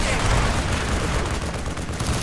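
Heavy gunfire fills a Call of Duty: Black Ops battle scene, dense bursts of automatic fire and booming shots packed together without letup from start to finish.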